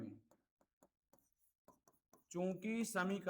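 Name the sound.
writing while solving a maths problem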